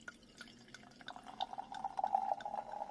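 Perry pours into a glass, starting with faint splashes and drips and settling into a thin, steady trickle that gets a little louder as the glass fills. The sound is close and quiet, with no one talking.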